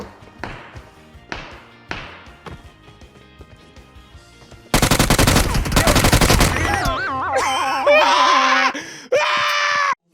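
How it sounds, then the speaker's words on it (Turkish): PUBG Mobile gunfire: a few sharp single shots, then a dense burst of rapid automatic fire, followed by warbling game sound effects and steady loud tones, all loud and close. "Bak sen beni iyi izle yukarıdaki adamı nasıl vuruyorum bak."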